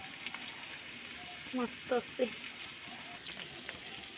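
Fish sizzles softly while frying in a pan, a quiet crackling hiss throughout, with someone speaking briefly over it.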